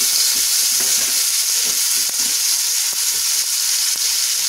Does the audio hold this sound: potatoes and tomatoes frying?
yes